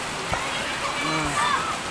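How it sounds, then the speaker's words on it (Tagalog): Steady dense hiss of heavy rain pouring down, with a brief voice murmuring underneath. "Lakas po ng ulan."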